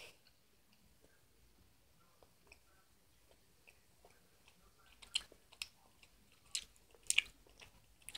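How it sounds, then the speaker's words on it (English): Quiet chewing of a Bean Boozled jelly bean, soft sticky clicks and crunches close to the mouth that grow louder and more frequent toward the end. "Got it in my mouth. I'm about to chew it."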